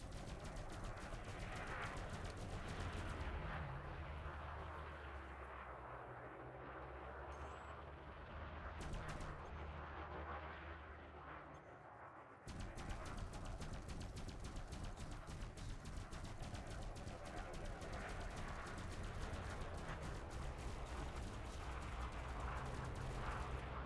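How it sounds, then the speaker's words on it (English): Rapid energy weapon fire from three pulse lasers on a spaceship in a space combat game, a dense, continuous stream of sharp repeating shots that pauses briefly midway, then resumes steadily. "Now I got 3 pulse lasers just randomly firing."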